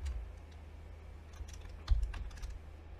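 Soft keystrokes on a computer keyboard while working in a Linux terminal, quiet scattered taps with a small cluster of quicker presses near the end, close and alone.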